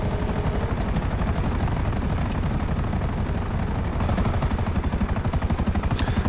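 Savage attack helicopter in GTA Online, a steady rapid rotor chop with rattling gunfire layered underneath, loud and continuous throughout.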